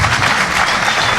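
Audience applause at a presidency review lecture, a dense steady wash of clapping filling the hall throughout, loud and continuous with no voices on top.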